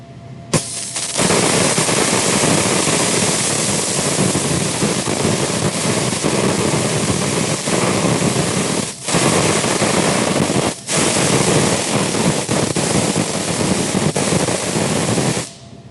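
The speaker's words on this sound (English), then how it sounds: "Put my elbow on the table, hold the gun, underhand, and I'm going to weld." A MIG welder lays a 4F overhead fillet weld, giving a loud, close, continuous crackling hiss that runs for about fifteen seconds with two brief breaks in the arc.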